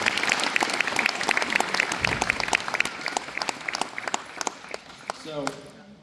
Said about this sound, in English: So I want to give them a round of applause real fast for the team.